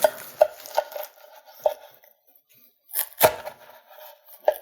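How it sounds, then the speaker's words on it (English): A big kitchen knife cuts through a warm puff pastry tart topped with asparagus and goat cheese, making a run of crisp, crunchy cuts in a steady rhythm, then a louder crackling press near the end. "But I'm going to use my nice big knife today. So we're going to start right in the center."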